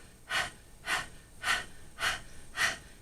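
Rapid breath of fire breathing during a meditation exercise: five forceful, evenly spaced breaths about half a second apart, close and clear with no talking.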